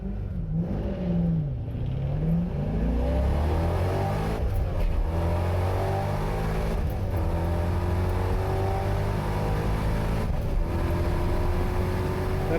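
Supercharged C5 Corvette accelerating hard down a drag strip, a loud, steady engine roar rising in pitch through the run with brief dips at gear shifts, close and continuous with no talking.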